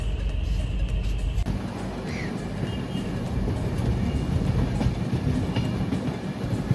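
A passenger train pulling out of Kamakhya station toward Guwahati, with a continuous rumble, rolling clatter of wheels on the rails and a brief high squeal, heard loud and close from on board without talking.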